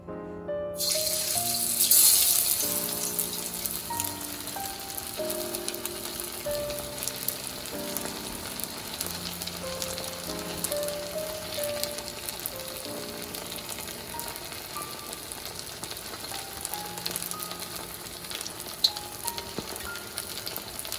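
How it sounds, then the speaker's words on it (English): Beer-battered fish fries in hot oil with a steady, close sizzle that rises early on and then settles into a continuous crackle, with light music playing underneath. "Just gonna lower the temperature on the oil just a bit because we do not want to burn our fish."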